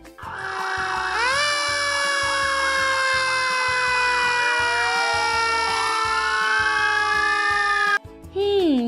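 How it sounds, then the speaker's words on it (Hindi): A fire engine siren wails loud and close, rising and falling steadily for several seconds before cutting off abruptly, followed by a brief voice. "हाँ, ये फायर इंजन का सायरन है ना?"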